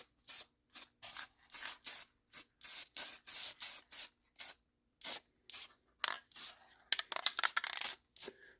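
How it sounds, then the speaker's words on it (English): Repeated short bursts of trim black spray paint hissing from a can onto a Mustang, about a dozen quick sprays with brief pauses between, close and crisp. "Don't spray it heavy the first time, first coat."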